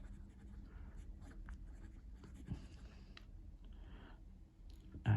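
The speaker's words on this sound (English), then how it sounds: "I like how the nib feels on the page." A Caran d'Ache 849 pen with a fine nib scratches softly across paper in short, quiet strokes up close, with faint clicks and rustles in between.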